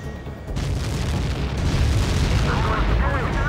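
A missile strikes a fighter jet in Ace Combat 7, bursting into a sudden heavy explosion that swells into a sustained rumbling roar over the drone of the aircraft, with radio voices calling out alongside.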